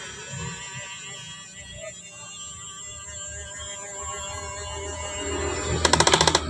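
A Huina 1550 RC excavator gives a rapid series of sharp electronic buzzer pulses near the end as it reaches its swing limit, rising over a steady background of motor whine and hum.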